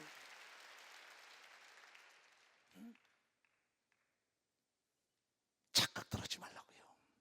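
Church congregation at a Korean worship service applauding: a steady wash of clapping fades out, followed by silence with a few stray sounds, then a sharp burst of individual claps nearby at the end.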